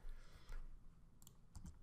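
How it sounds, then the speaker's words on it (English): Keys pressed on a computer keyboard, a few soft, quiet clicks spaced irregularly over a low background hum, with no voices. "we want to use our keyboard to access this"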